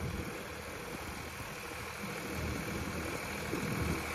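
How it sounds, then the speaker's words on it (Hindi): A Swaraj 744 FE tractor engine runs steadily with a low, broadband rumble that swells slightly as the revs rise in the second half, heard alone without talk. "RPM बढ़ाए ताऊ ने"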